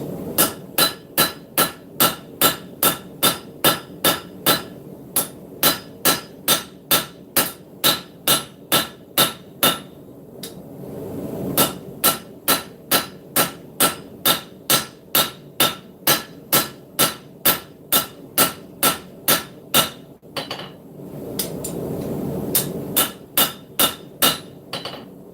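Hammer blows on hot steel while forging a knife, loud ringing strikes in a fast, even rhythm of roughly two per second, with a couple of brief pauses between runs.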